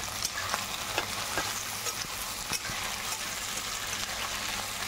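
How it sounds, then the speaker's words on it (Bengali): Potatoes, onion and green chilli fry in a pan for pasta, giving a steady close sizzle with scattered crackles and the scrape of stirring throughout. "এটা ভালো করে ভেজে নেবো।"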